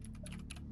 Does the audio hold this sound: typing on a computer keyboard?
yes